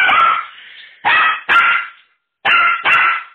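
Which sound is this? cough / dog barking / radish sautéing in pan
dog barking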